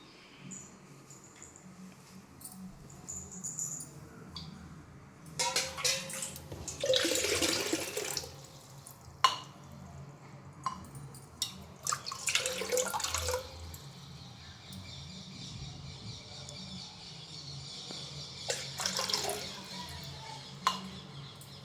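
Water pours from a cup into a pot of rice rava for upma, coming in several uneven gushes and splashes, close by, over faint kitchen background noise with no talking.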